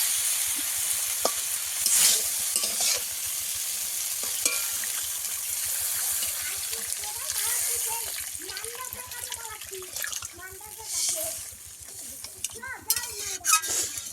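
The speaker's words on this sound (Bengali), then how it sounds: "ভালো করে আমি কষিয়ে নিয়েছি, এবার জল দিয়ে দেবো।" Hot sautéed masala sizzles and is stirred in a pan for a Bengali magur fish and green banana curry, with a steady frying hiss, clinks of utensil on metal and a rush of added water, while a voice speaks over parts of it.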